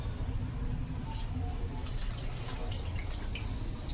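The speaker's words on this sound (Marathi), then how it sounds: "याच्यात पाणी घालणार आहोत" Water pours into a pressure cooker holding cut young jackfruit, giving a steady close splashing and dripping over a low background rumble, with no talking.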